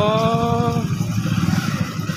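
Motorcycle being parked at the roadside, engine revs dropping sharply then settling into a rough, clattering idle, close and fairly loud.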